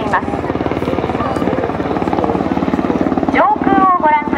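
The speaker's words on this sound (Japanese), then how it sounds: "陸上自衛隊の中型ヘリコプター UH-60 が侵入してきました。" Loud, pulsing rotor chop of a Japan Ground Self-Defense Force UH-60 helicopter passing overhead during a flood-defense rescue drill, while a voice speaks in Japanese over the noise.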